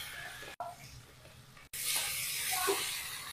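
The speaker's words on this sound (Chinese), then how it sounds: "把头部先炒至半生" Chinese kale stems stir-frying in a wok with ginger and garlic, a soft hiss and sizzle broken by two brief pauses, then a louder, brighter sizzle as the pan is worked.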